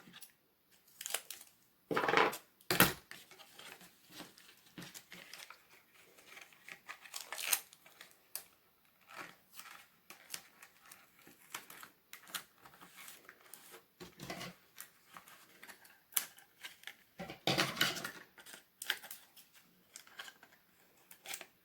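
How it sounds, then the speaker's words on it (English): Scissors snip and trim material for a homemade kaleidoscope, with irregular close cuts, rustling and crinkling handling noises spread across a quiet stretch and no voices. "Just trim a little bit just to even it out."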